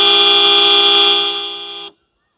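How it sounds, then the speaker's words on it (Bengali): A dual horn fitted with a relay on a Hero Xoom 125 scooter blares in one loud, sustained two-tone blast from about two metres away, holding steady for nearly two seconds before cutting off abruptly into silence. "এখন হর্ন বাজিয়ে আমি টেস্ট করব যে হর্ন বাজালে কত রিডিং এখানে শো করে।"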